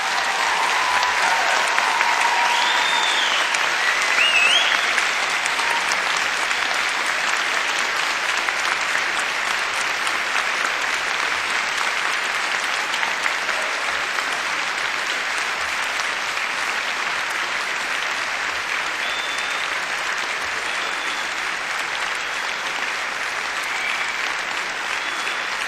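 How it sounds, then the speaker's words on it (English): Graduates at a university graduation ceremony in Cardiff give their families and friends a long, enthusiastic round of applause, a dense, steady wash of clapping filling a large hall for about twenty-five seconds without pause. "giving them an enthusiastic round of applause"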